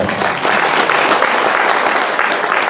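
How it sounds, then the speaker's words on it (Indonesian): Loud, close applause from a crowd at an Islamic religious study gathering in a modest hall, many hands clapping in a dense, steady burst that holds at full strength. "Tepuk tangan dulu."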